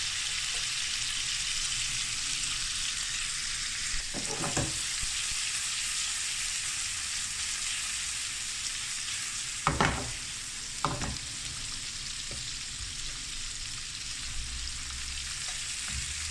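Ndolé with meat and spices frying steadily in a covered pot, a constant close sizzle with a few brief clinks and stirring knocks partway through.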